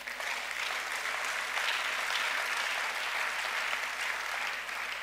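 Sustained applause from a church congregation, broad and steady for the full stretch, with a dense wash of clapping hands filling the space evenly and no pauses.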